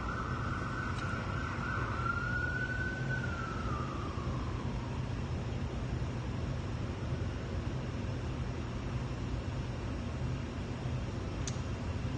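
A faint ambulance siren wails and sweeps downward as it passes and fades into the distance over a steady low traffic rumble, at Main Street and East Broadway.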